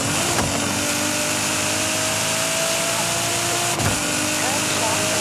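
A Nissan GT-R R35 built to 1000 hp in Forza Horizon 5 at full throttle on a highway, a steady loud engine drone with rising whine, broken by two brief shift-like dips, with speech mixed in.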